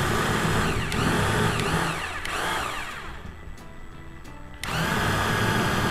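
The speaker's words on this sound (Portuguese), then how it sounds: "Vou fazer um furo aqui de 2 mm, só para ficar mais fácil de furar, de parafusar" A power drill boring a 2 mm pilot hole in MDF while building a homemade CNC machine, a loud continuous whine that dips briefly, sags in pitch as the bit works, then surges again, heard close with no talk.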